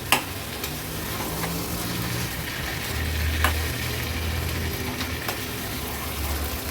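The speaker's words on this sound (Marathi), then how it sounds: "व्यवस्थित मटर, काजू आणि हे फणसाच्या फोडी आपण ह्या ग्रेव्हीमध्ये मिक्स करून घ्यायचे" Peas, cashews and jackfruit pieces being stirred into a thick Konkan-style gravy in a pan, a steady soft sizzle with faint spoon scrapes and a low background hum.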